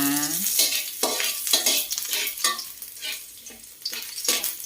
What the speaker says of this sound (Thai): อีกหนึ่งเมนูก็จะมาผัดบวบใส่ไข่นะคะ